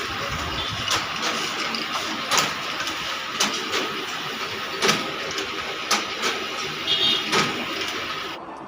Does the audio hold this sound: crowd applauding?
no